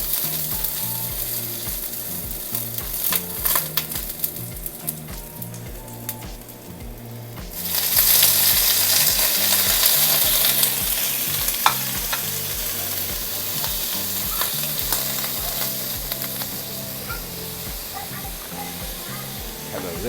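Seafood searing in hot oil for a seafood and broccoli stir fry. A quieter crackle with utensil clatter jumps to a loud, hissing sizzle as the food hits the pan, then keeps frying steadily.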